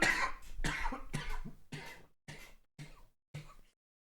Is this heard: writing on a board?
no